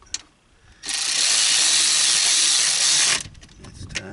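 A tool tightens a bolt while a remote control winch is fitted to a Massimo 500 MSU utility vehicle, giving one sustained, loud mechanical whir of about two seconds that starts and stops abruptly, with quieter handling noises before and after.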